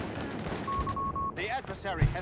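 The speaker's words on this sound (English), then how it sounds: "calling the Luftwaffe here with a Stuka strafing run" Stuka dive-bomber strafing run in Company of Heroes 3, with bursts of rapid machine-gun fire, a brief whining engine tone and sharp impacts over a busy battlefield mix.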